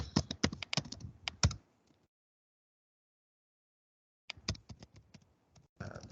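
Bursts of rapid computer keyboard typing at a command prompt, crisp close key clicks in two clusters separated by a couple of seconds of silence, then a final flurry.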